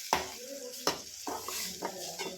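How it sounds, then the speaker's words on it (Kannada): A spoon stirs curd into cooked rice in a pan, giving soft wet squelching mixed with several sharp clinks against the pan, close and unaccompanied by speech. "ಮೊಸರನ್ನ ಹಾಕಿ ನೆಕ್ಸ್ಟ್ ಅದನ್ನ ಮಿಕ್ಸ್ ಮಾಡಬೇಕು"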